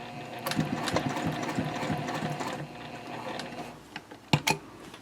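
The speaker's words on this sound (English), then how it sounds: "And now I can finish sewing around the box." A sewing machine stitches around the box corner of a bowler bag, giving a steady close mechanical whir and clatter, then a few brief louder knocks of the mechanism near the end.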